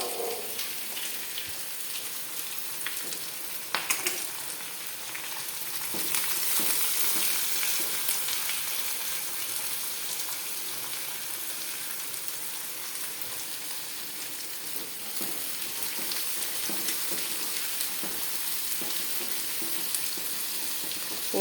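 Onions fry in a pan for a dried fish curry, a steady, close sizzle lasting throughout with scattered pops and crackles and occasional stirring, with no talking.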